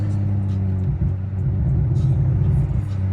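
A big-turbo BMW 535i engine rumbles and revs in a steady, deep, close drone that swells and dips over a few seconds, with no voices over it.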